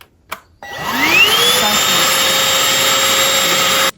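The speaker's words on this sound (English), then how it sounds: "I'm going to be using this to vacuum the bed just to see what it's going to give me." An Oraimo handheld vacuum powers on and spins up with a rising whine, then holds a loud, steady motor drone close by for several seconds before cutting off.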